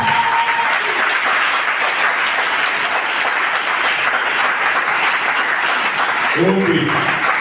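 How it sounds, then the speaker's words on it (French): A church congregation at a Sunday service applauds loudly and steadily, dense sustained clapping filling the room with cheering voices mixed in, and a few speech sounds near the end. "Acclamez le Seigneur très fort."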